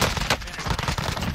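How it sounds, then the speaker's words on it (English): A Rytec sniper rifle in the Warzone video game firing, heard as loud, dense, rapid gunfire that fills the whole moment without pause. "That Rytec makes so much noise"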